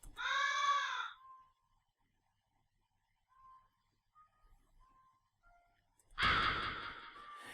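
A bird caws once in the video game Lisa, a loud, harsh call at the start. Faint soft tones follow, then a sudden noisy burst near the end.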